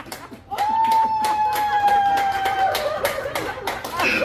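Elderly audience at a year-end birthday celebration clapping and laughing during a ventriloquism show, sharp irregular claps mixed with chuckles and chatter, with a sustained tone running beneath.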